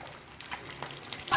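Mustard seeds crackling and sizzling in hot coconut oil in a pan, a soft steady frying hiss with scattered pops and a louder burst at the end.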